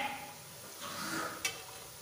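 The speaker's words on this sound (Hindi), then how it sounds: "बिस्किट जो है वो डालते ही हमारा तेल अच्छा गर्म है, तो ये अच्छे से फ्राई हो रहे हैं।" Homemade biscuits frying in hot oil, a soft continuous sizzle with a faint utensil clink near the end, no speech.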